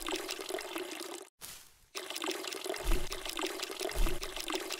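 Water pours and splashes steadily while plants are watered in the video game Weed Shop 2. A short break interrupts the flow, then it resumes with a couple of soft low thumps. Nobody speaks.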